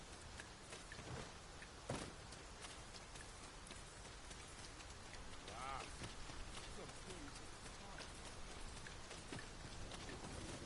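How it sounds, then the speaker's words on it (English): Heavy rain falls in the game Dragon's Dogma 2, a steady hiss of downpour with scattered drop impacts. The level is very quiet and even, with a faint voice speaking briefly in the middle. "It is raining most heavily"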